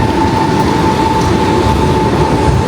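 An electric train pulls out of a station in Russia, a loud continuous rumble of wheels and motors with a steady tonal whine over it.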